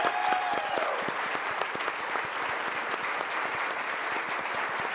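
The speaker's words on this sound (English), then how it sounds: "Let's give them another big round of applause." Sustained applause from an audience honoring scholars at a Sodexo charity golf classic event, dense steady clapping throughout with a brief whistle near the start.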